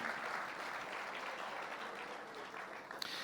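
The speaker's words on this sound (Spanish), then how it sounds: "Fuerte ese aplauso de alabanza al Señor" A church congregation applauds in praise at the close of a prayer, a steady dense wash of clapping that holds through the whole stretch at moderate level, thinning slightly near the end.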